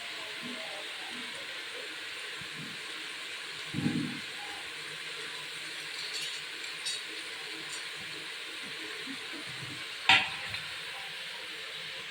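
Masala roasts in a pan for an ivy gourd gravy, giving off a steady soft sizzle and hiss, with a few faint spoon scrapes and taps as it is stirred.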